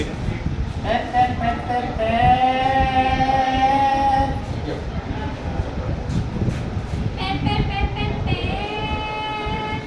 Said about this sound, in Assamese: এতিয়া আমি এইখিনিতে দি দিম হৰ্ণ এটা দি দিম দেই শুনা খাব নহয় এইটো দি দিলোঁ